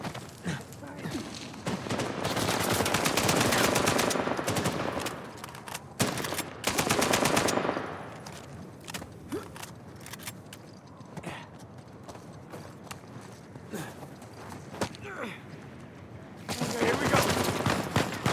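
Bursts of gunfire in the video game Uncharted 4, loud rapid volleys early on and again at the end, with quieter scattered shots and game noise in between while a voice talks over it.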